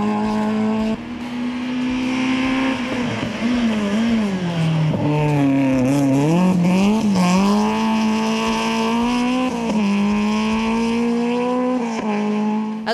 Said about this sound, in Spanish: Álvaro Méndez, a los mandos de su 106 GTI